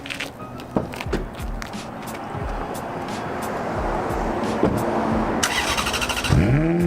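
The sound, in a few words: car engine starting while warmed up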